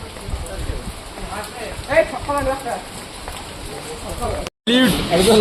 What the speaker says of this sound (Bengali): বাইরে দেখো ভাই বহুত বৃষ্টি পড়ছে দেখো ফুললি বৃষ্টি পড়ছে